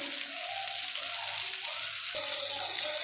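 Vanjaram (seer fish) steaks shallow-frying in hot oil in a pan, a steady bright sizzle that jumps louder midway as the pan is disturbed, with no talking.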